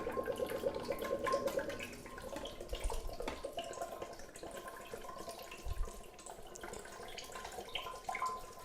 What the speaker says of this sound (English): you're gonna take your coconut water and we're gonna pour that whole thing in there